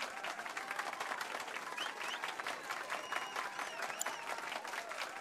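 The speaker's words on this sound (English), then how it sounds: "let's give our pianist a warm round of applause" Dense, steady applause from a crowd for a pianist in the video game Final Fantasy VII Rebirth keeps going without a break, moderately loud, with a few faint tonal sounds floating above it.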